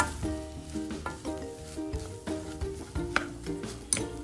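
A spoon stirs chaat masala into a sizzling potato mixture in a pan, making quick rhythmic scrapes and light clinks over a soft fry.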